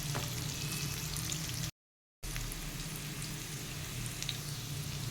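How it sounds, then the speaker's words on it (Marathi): Carrots and baby corn sautéing in a pan for a butterfly pea flower fried rice, a steady soft sizzle running throughout with no talk over it, briefly cut out by a moment of silence partway through. "आता आपण हे दोन तीन मिनटं परतून घेऊयात"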